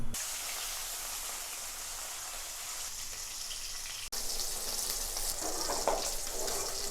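Katla fish rubbed with salt and turmeric frying in hot oil, a steady close sizzle holding throughout with a brief break midway and no talk.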